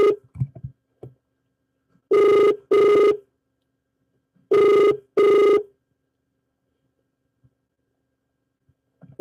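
Two pairs of telephone rings, loud and close, sound in quick double bursts with a pause between pairs; the call goes unanswered, and faint low background noise fills the gaps.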